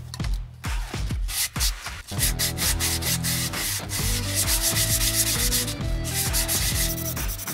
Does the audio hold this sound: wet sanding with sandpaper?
yes